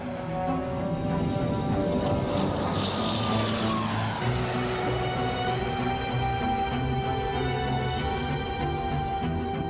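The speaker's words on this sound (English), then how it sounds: "Both planes take off into a stormy sky." A loud, steady roar of aircraft engines builds and sweeps past, a sustained rushing drone with rising whine, no voices.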